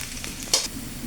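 Garlic sizzling in a hot pan as it is stirred, a close, steady crackling fry with one sharp scrape of a utensil partway through.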